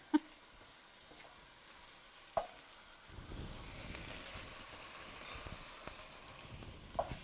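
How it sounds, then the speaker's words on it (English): Braciole brown in a hot pan with a quiet sizzle that swells after a few seconds of near silence, with a few sharp clinks scattered across it. "they're browning on each side"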